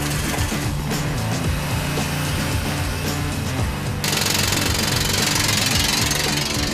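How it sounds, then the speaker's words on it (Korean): Rock drill rig boring blast holes into rock for vertical shaft blasting, a loud, continuous hammering roar with dense, gritty percussive texture that turns even harsher and brighter partway through. "암석을 파고드는 천공기의 굉음이 귓가를 찌른다."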